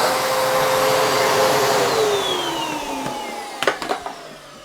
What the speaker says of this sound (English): I just vacuum it off.